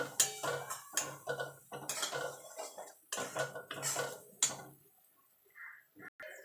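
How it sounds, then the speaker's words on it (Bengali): Kashmiri chili powder and other spices frying in a pan for a bhog-style cabbage ghonto, with a stream of scraping, clattering stirs and sizzle bursts that stop before a quieter tail with a few light clinks. "এবার মশলাগুলো ভালো করে একটুখানি কষিয়ে নেব, মশলার যে একটা কাঁচা গন্ধ আছে সেটা যাওয়া পর্যন্ত।"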